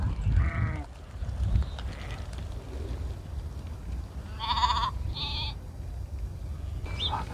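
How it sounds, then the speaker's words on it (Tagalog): A flock of sheep bleats in the Saudi desert, several wavering calls from different animals, some near and some farther off, spaced out over a constant outdoor rumble with no talking. "Napakaraming tupa dito mga kajuit, pero nasa disyerto siya."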